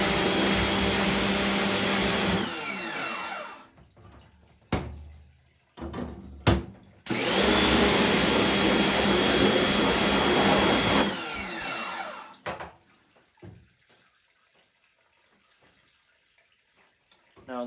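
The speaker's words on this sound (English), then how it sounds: "I'm just gonna rinse it out because you guys told me to rinse it out so that no clogging occurs" A home screen-printing screen is rinsed out with water, loud hissing spray in two long bursts separated by short gaps and clunks, then a quieter stretch with faint handling sounds.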